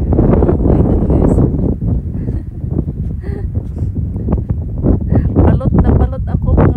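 Strong gusty wind in Iceland buffeting the microphone in loud, irregular low bursts, with a person talking throughout.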